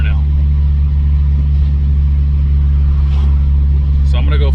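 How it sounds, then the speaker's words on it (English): A Lexus IS300 with a swapped 2JZ-GTE engine drives through a neighborhood, its low steady engine drone constant and close inside the cabin, with a brief higher rev flicker near the end. "So I'm gonna go for a spin around my neighborhood, just let the engine cool down from the pulls"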